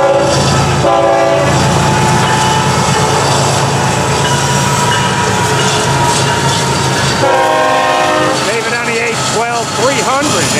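A diesel freight train on the FEC rumbles past loud and close, with a heavy engine roar and rhythmic wheel clatter, then steady horn blasts sound near the end.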